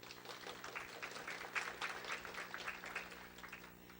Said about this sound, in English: If we get him a round of applause.